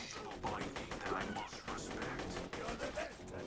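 Guns fire in the video game Borderlands 2 in rapid repeated bursts, a dense crackle of shots that runs throughout, with voices talking under it.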